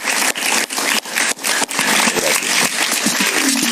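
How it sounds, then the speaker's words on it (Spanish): A theater audience applauds a stand-up comedian on a Spanish-language talk show, the clapping loud and close with a few brief dips before it settles into a steady, dense patter. "Un aplauso para él, por favor."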